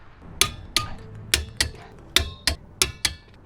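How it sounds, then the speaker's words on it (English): A torque wrench tightens truck lug nuts to 100 foot-pounds, giving eight sharp metallic clicks at an even, quick rhythm, close and distinct over a quiet background with no voices. "the last thing to do is just to torque all lug nuts to spec"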